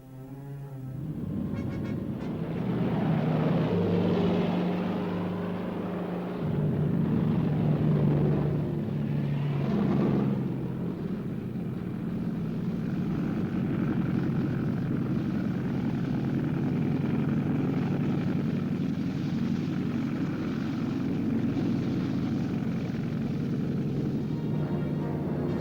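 German WWII aircraft, including Junkers planes, during the May 1941 airborne assault on Crete. A continuous, heavy engine drone and rumble fills the whole stretch, steady and fairly loud.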